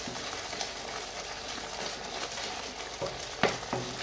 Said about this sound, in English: you can fry onion in the oil till it becomes brown red